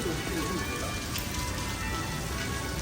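Steady rain in Singapore patters on surfaces all around, a dense even hiss with a faint voice murmuring beneath it.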